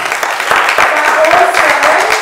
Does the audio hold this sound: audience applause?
yes